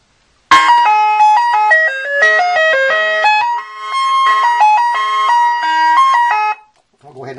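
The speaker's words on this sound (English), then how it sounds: "So right now it has the ice cream truck sound load up on it." A loud electronic ice cream truck jingle from a Big Bubba programmable USB car horn plays a bright tinkling melody for several seconds, then stops abruptly.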